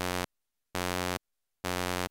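A Roland Juno 106 analog synthesizer played with its VCA in gate mode, sounding three sustained, buzzy notes that start and stop abruptly, each held about half a second with silence between.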